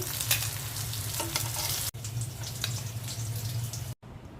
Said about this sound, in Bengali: কাঁকরোল ভাজা হয়ে গেছে এখন আমি উঠিয়ে নিচ্ছি